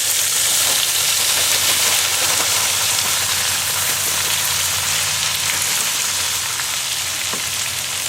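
Frozen Southern style potatoes frying in bacon grease in a Dutch oven, a loud steady sizzle and hiss filling the whole stretch, close up with no talk.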